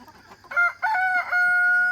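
A rooster crows nearby, a loud, drawn-out cock-a-doodle-doo broken into a few rising phrases, with quiet clucking underneath.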